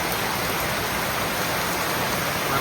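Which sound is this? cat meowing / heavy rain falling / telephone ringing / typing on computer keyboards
heavy rain falling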